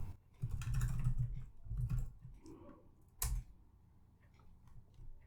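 Fingers tap a computer keyboard in short clustered bursts of quiet clicks, with a sharper isolated keystroke near the end and brief pauses between runs, close and faint.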